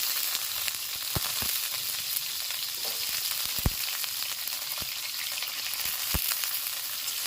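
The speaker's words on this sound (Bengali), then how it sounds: "তেলটা গরম হয়ে গিয়েছে, এখন আমরা আলুগুলি এক এক করে দিয়ে দেব।" Potatoes frying in hot oil in a wok over a stove crackle with a continuous soft sizzle, punctuated by scattered sharp pops and occasional clicks of utensils.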